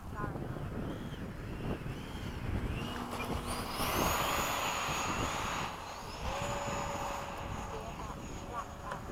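A light aircraft engine drones through a touch and go during a sunset formation flight, a steady buzzing hum with shifting tone and wind rush over the microphone, a pilot talking over it.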